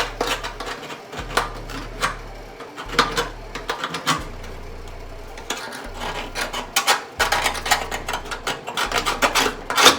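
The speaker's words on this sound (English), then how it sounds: "So I'm just tracing the outline of this patch here on there, like so" A scribe tool scrapes along the outline of a patch on a 1970 Challenger's metal floor pan in short, rasping strokes with brief pauses between them, close and fairly loud, over a low steady background hum.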